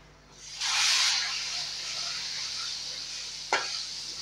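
Turmeric hits hot oil in a tempering pan with a loud sizzling hiss that settles into steady frying, followed by a brief scrape or stir near the end.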